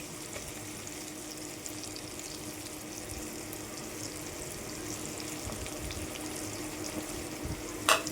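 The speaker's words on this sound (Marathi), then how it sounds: "तर ह्याला आपण आता कांदा बघा भाजून झालेला आहे, तरी आपण हा मसाला टाकणार आहोत" Ground masala tipped onto onion and garlic already fried in a pan for chicken rice, giving a steady, moderate sizzle throughout with a brief louder crackle near the end.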